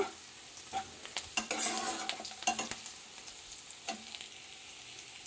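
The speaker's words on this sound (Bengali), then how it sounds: "তেল গরম করে 5 ফোঁটন দিয়ে দিয়েছি, পেঁয়াজ ভাজা ভাজা হয়ে এসছে" Onions frying in hot oil with five-spice (panch phoron) for a cauliflower and potato curry, sizzling steadily while a spatula scrapes and clatters against the pan at close range, with no talking.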